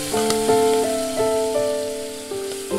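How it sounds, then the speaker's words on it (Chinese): Cured pork with minced ginger and garlic sizzles in a wok for a Hubei Enshi hezha topping, a steady hiss with soft stirring bumps under a tonal background melody. "然后用腊肉混合姜蒜末炒个浇头"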